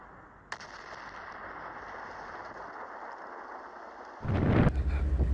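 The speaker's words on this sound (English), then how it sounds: "we'll shoot that rocket and get steel on target" A US rocket launcher fires a rocket during Jordanian Army training: a steady broadband rush builds for several seconds, then a loud, booming blast erupts near the end and roars on.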